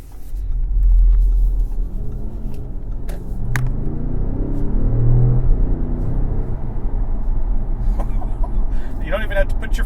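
A 2016 Audi S7 on the road gives a low, steady engine rumble with a swell of acceleration in the middle, heard from inside the cabin while a person talks over it.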